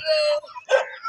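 A dog barks twice at close range in a village setting, with a sustained tonal first bark followed by a shorter, noisier one and a faint trailing yip.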